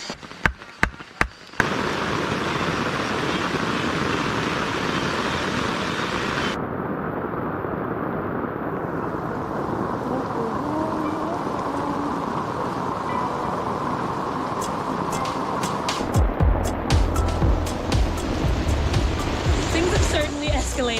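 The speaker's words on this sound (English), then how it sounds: "It's raining like hell" Heavy rain pours down in a Bali forest as a dense, continuous roaring hiss of drops, broken by a few sharp cracks at the start and a deeper rumble toward the end.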